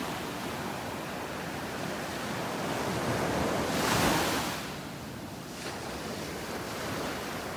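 Ocean waves roll onto a beach in North Naples, Florida, a broad steady wash of surf that swells to a louder crest midway and then eases, with light wind noise and no voices.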